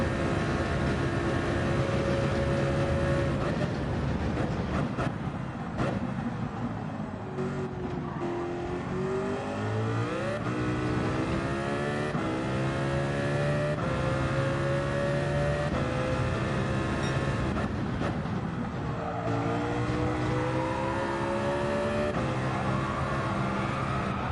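Race car engine revving and shifting up through the gears around a track corner at a Japan circuit, a continuous loud whining drone whose pitch repeatedly climbs and drops as it shifts, with no talk.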